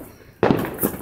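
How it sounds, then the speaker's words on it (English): Fourth of July fireworks burst loudly with a sharp bang after a quiet stretch, followed by a crackling tail and a second smaller pop. "I want more fireworks."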